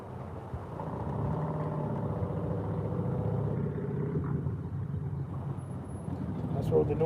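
Cars and motorbikes on a road up above Wroxham in the Broads make a faint, steady rumble of traffic in the distance, with a voice talking over it.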